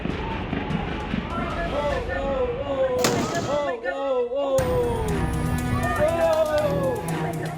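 Heavy blasts and rumbling booms from a fire at an army ammunition warehouse in Bekasi, West Java, with two sharp broadband bursts partway through, under continuous talk and background commotion.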